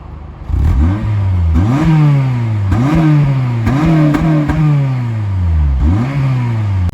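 A hot hatch's engine revs up through repeated gear changes on a road, each pull rising in pitch then dropping with a sharp shift, loud and close from inside the car.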